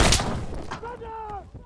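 A video-game gun loaded with slugs fires a single loud, close shot that quickly decays, followed by a brief tonal ring from the game.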